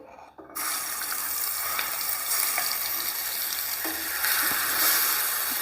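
Garlic chutney paste hits hot oil and bursts into a loud, steady hiss that holds for several seconds, close by and alone.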